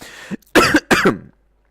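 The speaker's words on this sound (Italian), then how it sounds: "Mamma mia la tosse." A brief burst of coughing up close: a small cough followed by two harsh, loud coughs in quick succession, then silence.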